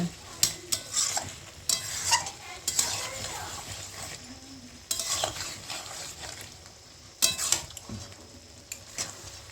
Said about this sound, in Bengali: মাংসটি তো ভালোভাবে কষানো হয়ে গেছে